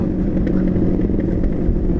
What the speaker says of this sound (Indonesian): ninja itu knalpotnya bacot bener